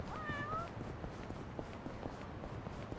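A cat meows once near the start in the game Yakuza: Like A Dragon, a short rising-falling call over a steady bed of game noise and soft patter.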